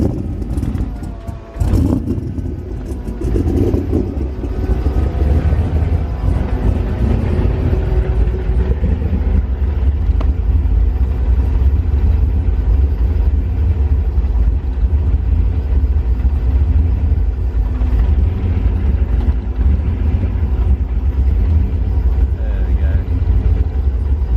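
A 1000hp drift car engine running on E85 after a cold start, a steady loud low rumble and idle that holds throughout, with a brief sharp burst near the start.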